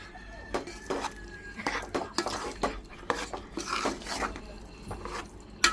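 A spoon stirring soya chunks pulao mixed with yogurt in a pot, a string of uneven scraping and rubbing strokes close by, irregular in rhythm and fairly quiet.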